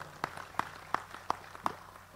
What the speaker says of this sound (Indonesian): Tepuk tangan untuk 4 kelompok.